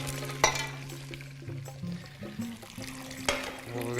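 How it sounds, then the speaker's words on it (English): Hot water poured off boiled potatoes into a colander, a steady close splashing and gurgling stream with a few sharp clanks of the pot against metal. "pour off the hot water."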